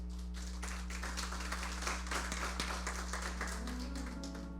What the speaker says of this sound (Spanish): ¿Cuántos le pueden dar un aplauso al Rey del Cielo?